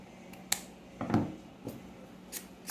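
Scissors cut through craft material for hair clips with a couple of quiet close snips and faint handling clicks, no talking.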